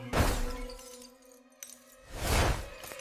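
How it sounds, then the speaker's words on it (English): Glass shatters twice in sharp bursts of breaking and tinkling shards as a rock is thrown through a back hallway window, with a brief quieter gap and a small clink between them. "Someone had thrown a rock straight through the back hallway window."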